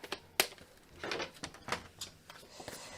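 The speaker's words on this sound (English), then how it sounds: "So first up, I'm just going to cut some strips." A craft tool slices shimmer paper into strips, giving a few quiet, brief scraping and clicking cuts spaced unevenly in a quiet room.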